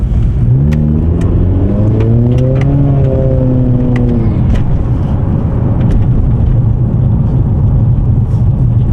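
A 10th-generation Honda Accord in sport mode revs up while driving, its engine note climbing in pitch through a gear and then dropping away, loud and close over steady road and cabin noise.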